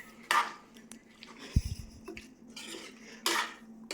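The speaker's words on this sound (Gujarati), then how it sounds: "હવે આપણે બટાકાને ગ્રેવી સાથે હલાવી દઈશું, મિક્સ કરી લઈશું, હલાવી લઈશું" Potatoes being stirred into gravy in a metal pot for sukhi bhaji, with a few sharp clanks and scrapes of a spoon against the pot, separated by short pauses.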